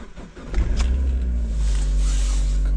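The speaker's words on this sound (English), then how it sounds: "Car started" A Mark II Mazda MX-5 Miata engine starts after a jump start. It cranks briefly, then catches and settles into a steady, loud, close idle with a continuous low rumble.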